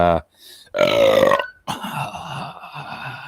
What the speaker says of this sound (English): Just hard burping.